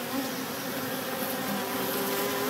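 Honey bees from a colony living in a wall buzz steadily and densely, a continuous close swarm hum with no pauses or talking.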